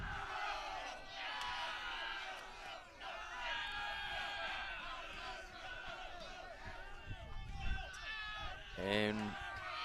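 A rowdy high school baseball squad cheers and yells from a crowded dugout during a state playoff game, a dense, continuous burst of shouting voices close by, with a sharp whoop near the end.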